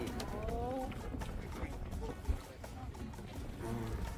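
A traditional engineless canoe glides over the sea off Saipan, with a steady broad wash of water and wind rushing past and voices talking over it.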